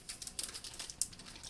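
Crinkly plastic packaging for USB-C to USB-C charging cables rustles and crackles in short bursts, quiet and close, with a few sharper crinkles along the way.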